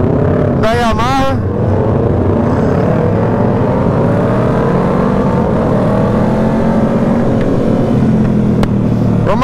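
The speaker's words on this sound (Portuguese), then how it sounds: "Vamos acelerar agora. Uma moto de competição aqui em Interlagos." A Yamaha R3 Cup racing motorcycle accelerates at the Interlagos circuit during Festival Interlagos 2022, its engine droning and climbing steadily and loudly throughout, with a brief higher whine near the start.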